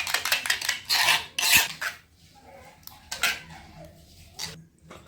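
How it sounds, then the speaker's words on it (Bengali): Gram flour batter for chicken tandoori being whisked in a metal bowl, with repeated close scraping and clinking strokes coming in bursts before easing to softer, sparse stirring. "ভালোভাবে মিক্স করে নিলেই তৈরি হয়ে যাবে ব্যাটারটা।"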